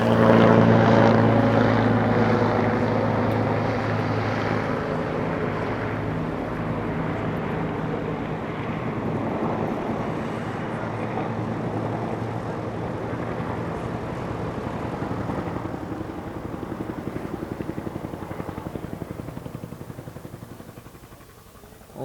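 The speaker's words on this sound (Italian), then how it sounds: "Ora gli elicotteri atterreranno" Military helicopters land at an amphibious troops' national rally, their rotors a loud, steady, droning wash of low thrumming that fills the whole stretch and eases only slightly toward the end.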